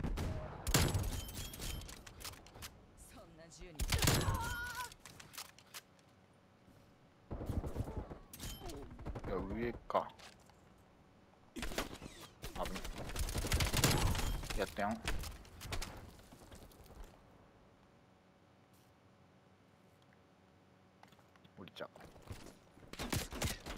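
Gunfire and explosions in the Call of Duty: Black Ops Cold War video game, bursts of rapid shots and blasts separated by quieter gaps, with a player talking in between.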